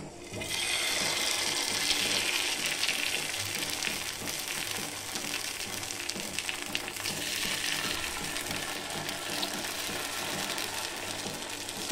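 Sweet corn paddu batter sizzling in a heated paddu pan, a steady soft hiss and gentle crackle of cooking that holds evenly throughout, close and unbroken.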